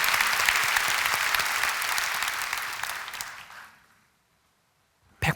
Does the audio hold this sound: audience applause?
yes